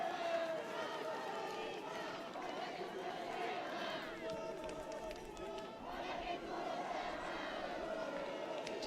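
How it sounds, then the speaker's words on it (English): Spectators at a Haudenosaunee versus Puerto Rico lacrosse game make a constant, loud roar of cheering and shouting voices that swells slightly midway, with chatter woven through it. "Crowds are going wild from both teams."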